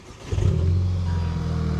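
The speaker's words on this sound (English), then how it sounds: "it sounds nuts. Just listen to the exhaust." A big-turbo 350bhp VW Scirocco TSI GT engine revs up sharply and holds a deep, throaty exhaust roar, close and loud, with no talking.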